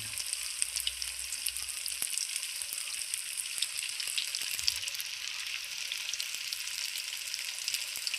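Pazhampori, banana fritters, frying in oil give a steady, close bubbling sizzle with fine crackles and occasional pops throughout, with no talk.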